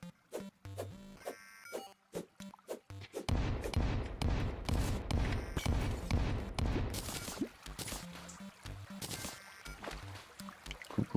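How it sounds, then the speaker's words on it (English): Rapid, loud bursts of video game explosions pile up into a dense, continuous barrage lasting several seconds, preceded and followed by sparser sharp blasts. "Bombs."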